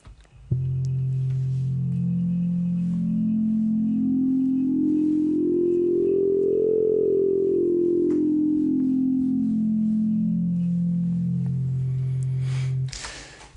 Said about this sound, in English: You'll hear each individual harmonic come in as it sweeps through.